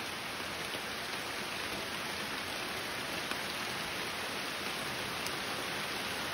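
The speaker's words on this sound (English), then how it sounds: "now it's a downpour" Heavy rain pours down in a steady, dense hiss outdoors at night during frog hunting, a constant loud downpour with no voices.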